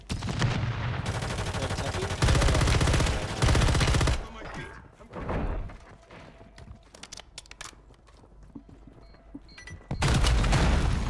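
Rocket launcher explosions and gunfire in the video game Fortune's Keep, loud dense bursts of shots and booms that come in heavy clusters, with quieter scattered impacts between them.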